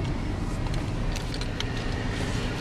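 A car driving, heard as a loud, steady rumble of engine and road noise that runs unbroken throughout, with no talk.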